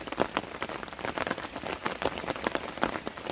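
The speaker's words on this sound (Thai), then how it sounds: "โอ้ฝนกระโชกดีแท้" Gusting rain beats steadily on a surface up close, a dense patter that swells and eases in uneven bursts. No voices are heard over it.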